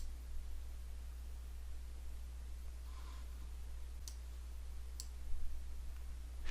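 A computer mouse clicks a few times while operating Civil 3D software, each click a sharp, isolated tick over a steady hiss of background noise.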